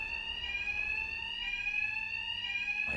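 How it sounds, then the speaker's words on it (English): A continuous electronic alarm rings in Batman: Arkham Knight, a steady high-pitched tone with rich harmonics over low background rumble. It holds level throughout and cuts off abruptly at the very end. "My attacks will be covered by the noise of the alarm."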